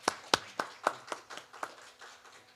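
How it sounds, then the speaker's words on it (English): Scattered hand claps from a small audience at a diaspora trade and investment summit, a few distinct claps that quickly thin out and die away. "Please, a hand of applause."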